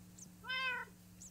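A Minecraft cat gives a single clear, close meow in the middle, with faint higher chirps before and after over a low steady game hum.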